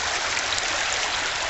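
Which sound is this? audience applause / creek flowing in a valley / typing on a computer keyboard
creek flowing in a valley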